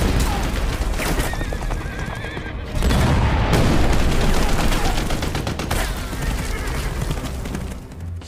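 Film soundtrack with a horse neighing loudly and hooves clip-clopping close by, mixed with dense battle noise like booms and gunfire throughout.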